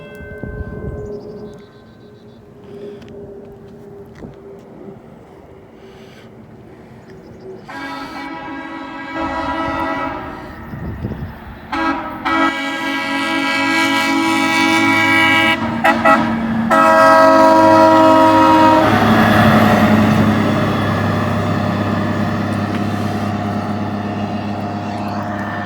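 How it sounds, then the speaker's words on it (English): A railroad ballast regulator machine approaches and passes, followed by a train sounding its horn; a low engine drone builds into sustained loud horn blasts and a rising rumble close by. "I believe we got a ballast regulator coming now."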